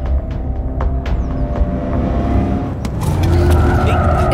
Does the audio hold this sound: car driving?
yes